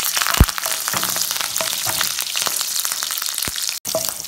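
Fennel seeds, cumin, green chili and curry leaves frying in hot oil as the base of an egg paniyaram kara kuzhambu, giving a steady close sizzle with a few sharp pops and a brief clink near the end.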